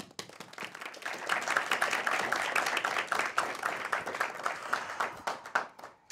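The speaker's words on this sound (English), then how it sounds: "Over to you, audience applause." A live audience at a studio talk show's season finale breaks into applause, dense clapping swelling after a quick start and carrying on loudly to the end.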